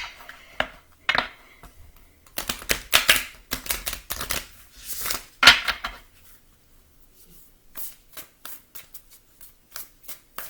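A Moonology Oracle card deck is shuffled by hand, giving close riffles and sharp slaps in uneven bursts, then a run of lighter, evenly spaced taps as the cards settle.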